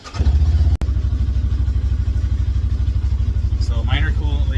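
Segway UT10X UTV engine with a minor coolant leak catching and settling into a loud, steady rhythmic idle close by, with someone talking over it.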